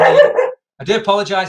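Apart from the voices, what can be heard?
dog Watson barking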